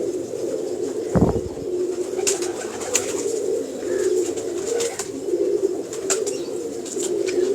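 Breeding pigeons coo in a steady low murmur with occasional wing flaps and a sharp knock, close and continuous, with no talk.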